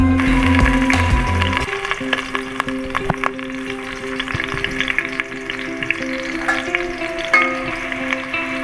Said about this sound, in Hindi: प्याज को हम ब्राउन होने तक फ्राई करेंगे।